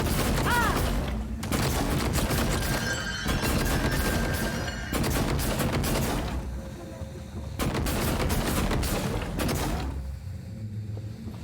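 Automated turrets firing in the video game Prey, bursts of rapid gunfire that come in loud, dense stretches and break off into brief quieter gaps, with a low mechanical hum underneath.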